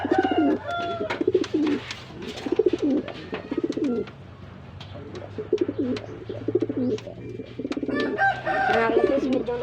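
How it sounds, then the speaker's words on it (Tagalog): Pigeons pairing up give repeated soft, throaty coos in rhythmic bursts nearby, with a few brief higher calls in between. No voices are heard. "Pares sila mga kalapatids."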